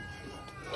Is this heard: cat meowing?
yes